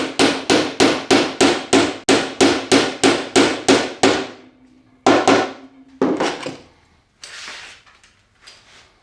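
A hammer strikes a nail set in quick, steady blows to sink nails below a wooden spice rack's surface; about a dozen sharp, ringing hits come close and loud, then a pause and a few slower, scattered taps.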